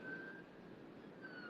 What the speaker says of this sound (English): That was an ambulance, not a fire truck this time.